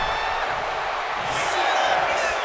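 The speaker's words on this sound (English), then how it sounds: "Taking a moment to get pumped off of this crowd's incredible energy." Crowd cheering and roaring in the arena of the wrestling video game WWE 2K25, a steady, loud wash of crowd noise that swells slightly toward the end, with no talk over it.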